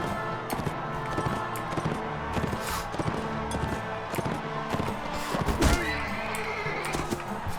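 Horse whinnies and hoofbeats amid the clash of battle in Mount and Blade Warband, a couched lance striking a mount, loud and busy with overlapping thuds and impacts throughout.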